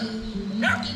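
A dog on a trek in Colombia gives a short bark or yelp near the end, close and fairly loud over a low steady background hum.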